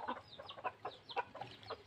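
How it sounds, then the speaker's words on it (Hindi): A desi rooster kept indoors in a house clucks repeatedly in quick, uneven bursts, close and fairly clear with no talking over it. "अरे देखिए मुर्गा है, इसको बहुत पगला गया है, घर में रहता है"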